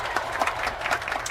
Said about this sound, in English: Everyone give a round of applause for that.